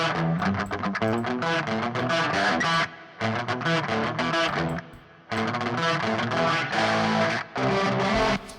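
Distorted electric guitar plays dense chords and riffs with only brief gaps between phrases, loud and continuous, with no voices.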